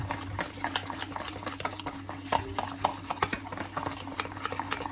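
Butter and icing sugar being mixed for a Victoria sponge, giving quick rhythmic scraping and knocking of a utensil in a bowl, fairly quiet and steady.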